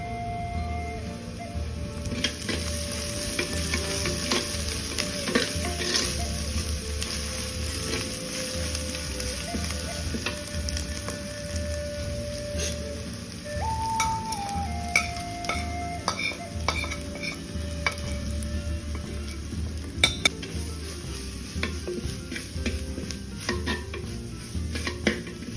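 Tomatoes and ground chilli, coriander and turmeric frying in a pan for a Kerala-style fish head curry, with steady close sizzling, stirring scrapes and occasional clinks of utensil against pot, no talking.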